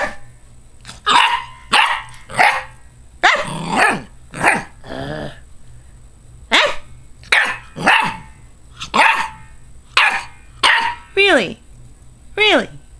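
A dog barks repeatedly in short, loud bursts at a steady pace, some barks rising into yelps, with a person talking between them.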